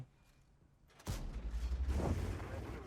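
After a second of near silence, a heavy tank cannon blast booms in World of Tanks, followed by a rumbling, fluttering roll that fades slowly.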